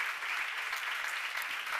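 Congregation at a church seminar clapping together, a dense, steady wash of applause at an even level throughout.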